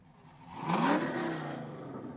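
A muscle car engine at a cruise night car show with classic Impalas and Camaros revs up sharply, a mid-distance rising roar that peaks and settles into a steady rumble, no talk.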